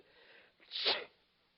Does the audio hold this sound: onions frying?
no